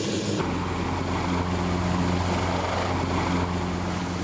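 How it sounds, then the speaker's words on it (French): French Tiger combat helicopter circling overhead in Afghanistan, a loud continuous rotor drone with a steady low hum and broadband wash, sustained without pause and no speech. "Le tigre français qui tourne au-dessus de nous, ça fait toujours plaisir."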